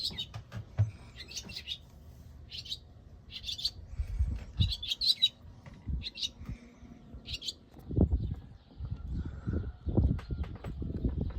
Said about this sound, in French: C'est un petit oiseau qui m'a réveillé.